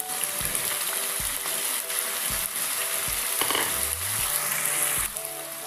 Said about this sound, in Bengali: তেল গরম হয়ে গেলে কেটে রাখা আলু আমি তেলের মধ্যে দিয়ে দিচ্ছি।